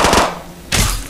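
A sniper rifle headshot in the video game Ninja's Creed: two sharp, loud gunshot cracks about half a second apart, each with a short booming tail, close and alone.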